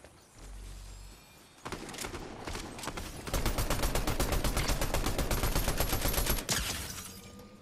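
Rapid automatic gunfire in the video game Fortnite, with a short burst, then long sustained volleys of close, loud shots running for several seconds before cutting off.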